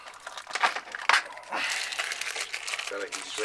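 Crinkling plastic packaging around heat shrink tubing, handled up close in short crackly bursts with pauses, while wiring power and ground on a Foxbody Mustang.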